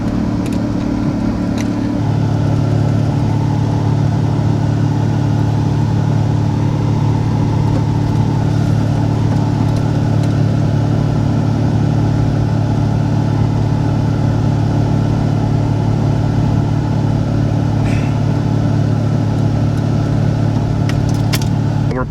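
A truck towing a trailer idles and rumbles loudly at close range with a constant low drone, creeping slowly forward onto a scrap-yard scale.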